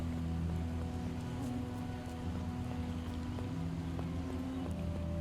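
Steady rainfall in the survival game Project Zomboid patters continuously at an even level over a low droning hum, with no voices.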